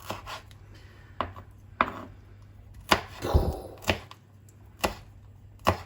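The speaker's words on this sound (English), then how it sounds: "There you go, there's some chopped up chilies." A knife chops chilies on a board in a kitchen, about nine sharp, separate knocks at an uneven pace, close and clear, with a brief scraping sweep in the middle and no talking.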